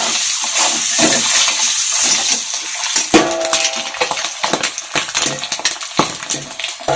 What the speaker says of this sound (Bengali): এগুলো দিয়ে ডিমটাকে ভেজে নেব, কালারটা সুন্দর আসবে।